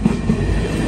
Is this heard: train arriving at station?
yes